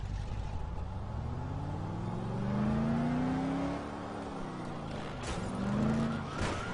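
A car in Dead Island drives along with its engine whining up and down in pitch, revving through two rising surges over a low road rumble, close and moderately loud.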